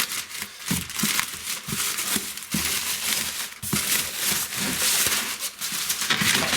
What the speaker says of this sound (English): Well, let's cut this open and have a look.